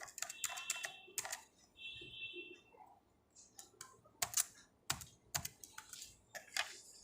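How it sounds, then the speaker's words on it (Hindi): Typing on a computer keyboard while entering data into an Excel spreadsheet: close, irregular clusters of crisp key clicks and taps, quiet between bursts, with no talking. "और स्पोर्ट की जगह मैं योगा टाइप कर लेती हूँ।"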